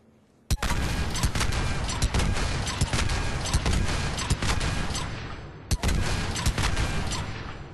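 The Saber rifle fires in the video game Mass Effect 3, a loud, dense stretch of gunfire opening with a sharp shot, then another sharp report near the end, with no voice over it.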